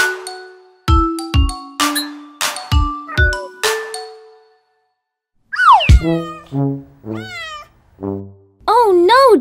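A hurt kitten meows in an animated children's song set at a vet's. A run of bright chiming notes comes first, then after a pause several loud, close, wavering meows follow one another.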